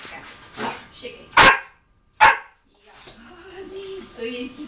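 A two-and-a-half-month-old puppy barks on command, two sharp loud yaps separated by a brief pause, with a person speaking commands softly around them.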